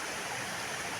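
The river at Busay Falls rushes in a dense, continuous wash of flowing water, steady and fairly close, with no other sounds.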